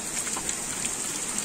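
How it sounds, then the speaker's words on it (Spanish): A heavy rain downpour in a rural community near an old water tank, a dense, even hiss of rain on surfaces, close and steady throughout with no voices. "El aguacero sigue y sigue y sigue y sigue."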